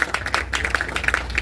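Audience clapping at a literary event, a faint scattered patter of individual claps over low background hum, fairly distant and light.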